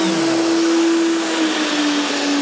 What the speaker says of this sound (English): my sander is connected to a vacuum cleaner that starts automatically as soon as I turn on my sander